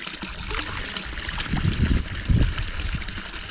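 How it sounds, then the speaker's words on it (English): Water from a public drinking fountain in Portugal trickles and pours in a steady, close stream, swelling slightly in the middle, with no talk over it. "they have here a lot of places like this, fountains with this kind of water"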